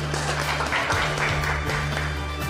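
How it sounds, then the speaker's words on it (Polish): Studio applause for a contestant on a restaurant makeover show, a steady dense clapping wash throughout with a low background hum. "Brawa dla pana."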